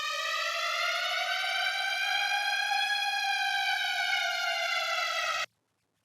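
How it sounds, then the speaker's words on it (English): A siren sound effect dropped into the break of an electronic dance track, a single long wailing tone with rich harmonics that rises and slowly bends, loud and alone, then cuts off abruptly. "So I added a little siren here to add suspense."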